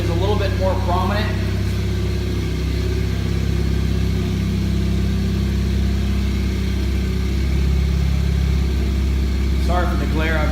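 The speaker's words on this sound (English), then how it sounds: "it sounds like you hear a little bit more of the turbo" Ford Fiesta ST with an MBRP hot-side charge pipe, its engine droning steadily with a faint turbo whine running underneath, while someone talks briefly at the start and again at the end.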